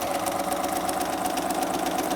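A BERNINA sewing machine stitches fabric strips with a fast, steady mechanical whir and rapid needle ticking that runs evenly and close throughout, with no voices.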